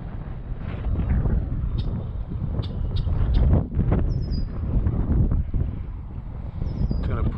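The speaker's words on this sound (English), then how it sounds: "There's a good breeze today. Wind's a little stronger than I thought." Strong breeze blowing outdoors on open water during a summer bass fishing outing, a steady, loud rumbling buffet of wind across the microphone that gusts and swells continuously throughout.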